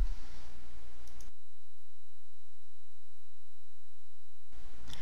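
A computer mouse gives two faint clicks a few seconds apart, set against a steady low background hum.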